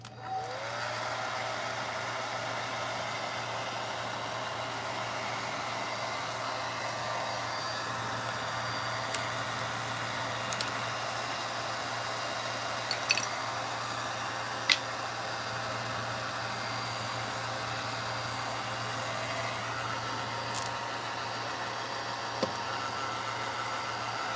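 A heat gun blows hot air steadily over a Dollar Tree candle craft, giving a continuous whooshing, motor-like hiss for the whole stretch, with a few faint clicks and taps along the way.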